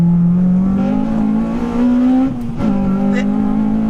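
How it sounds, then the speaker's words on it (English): A high-mileage Honda Civic Type R, a 200-brake-horsepower car, revs hard toward its redline, the engine note climbing steadily in pitch, dipping briefly at a shift, then rising again, loud and close. "Honda really encourage you to redline your car, get to the high end of the rev limit, because that's where the power is"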